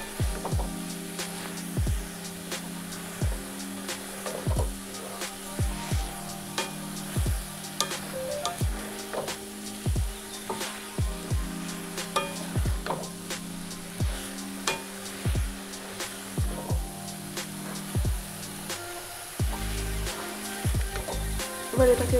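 Turmeric and bay leaf fry in oil in a pan, a low sizzle under a steady series of rhythmic scraping stir strokes, close and fairly quiet.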